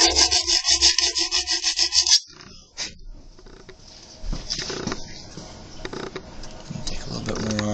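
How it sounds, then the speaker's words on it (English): A metal part for a chrome lightsaber build is hand filed with quick, rhythmic rasping strokes that stop after about two seconds. Quieter handling noises and faint talk follow. "just like you would file anything else"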